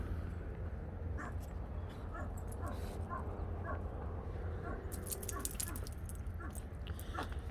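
Dogs at the Heritage Trail dog park give short yips and barks, some whimpering, at moderate distance over steady outdoor ambience, with more bursts toward the end.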